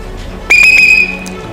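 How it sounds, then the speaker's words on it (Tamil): A single loud whistle blast, the kind a bus conductor uses to signal a stop, rings out sharply for about half a second and then cuts off, with no voices over it. "அது ஒரு விசில்."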